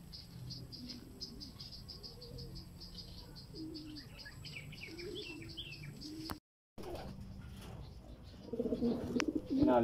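Racing pigeons arrive at the loft during a fourth-lap derby race in Santiago, Isabela, with steady bird calls and chirps, a rattling clatter, a brief cut to silence, then a louder burst of rattling near the end.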